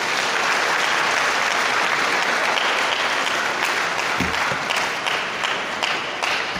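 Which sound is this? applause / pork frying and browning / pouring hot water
applause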